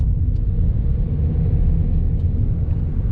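A car's steady low road rumble and engine drone fill the cabin on the way to the settlement of Almazny, with continuous tyre and wind noise and no voices.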